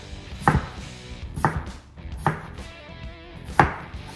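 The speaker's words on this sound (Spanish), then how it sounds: "lo que voy a picar, van a hacer unas papas nada más en rodajas" A knife slices potatoes into rounds on a board, four firm close chops spaced about a second apart with quiet handling noise in between.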